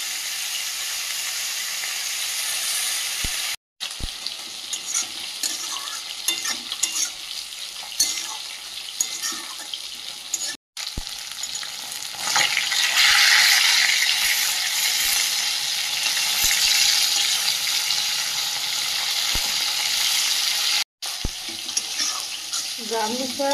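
Shrimp frying with brahmi greens and potato in a pan, a loud continuous sizzle with stirring scrapes throughout, briefly cut by short gaps, with no talk.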